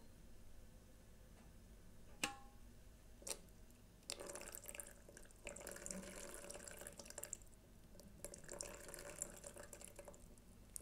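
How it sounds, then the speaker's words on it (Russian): A thin stream of water pours steadily from a kettle spout into a vessel for brewing coffee, trickling and splashing softly close by, with a sharp clink partway through. "Если я завариваю альтернативу, посмотрим тоненькую струйку."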